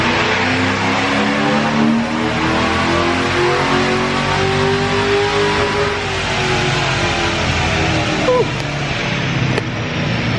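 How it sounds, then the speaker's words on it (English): A C6 Corvette drift car's loud V8 engine revs hard and continuously, a deep throaty roar rising and falling in pitch close by for the whole stretch. "That was very loud, and the V8 sound is amazing."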